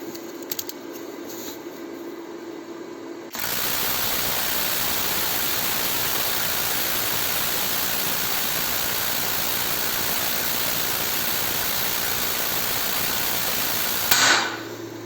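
A DRIVAK EW002 cordless impact wrench rated at 600 Nm unscrews at constant speed. After a few quiet seconds it kicks in with a loud, steady, unbroken whirring buzz that runs for about eleven seconds and then stops abruptly.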